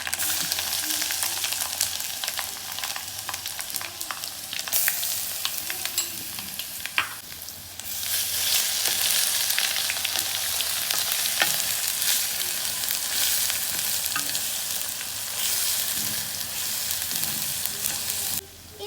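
Garlic and crushed Kashmiri chili fry in hot oil for a mango ginger pickle: a loud, continuous sizzle with stirring scrapes and brief dips as the pan is worked, and nobody speaks.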